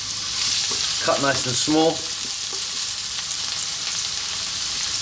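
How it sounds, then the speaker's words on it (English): Onion hits hot sunflower oil in a pan over high heat and sizzles steadily for the whole stretch, a broad, even hiss. A voice speaks briefly near the start. "I'm going to start off by dropping in my onion."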